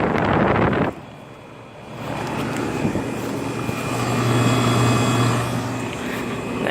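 A 1996 Rheem Classic X 2.5-ton heat pump runs outdoors with a steady whooshing fan and low hum, joined by a brief louder burst at the start and wind-like noise throughout.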